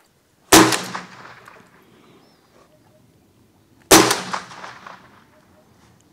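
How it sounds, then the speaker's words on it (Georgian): Two sharp, loud rifle gunshots a few seconds apart, each a sudden crack followed by a rolling echo that fades out, with near silence between them. "პირველი გასროლა"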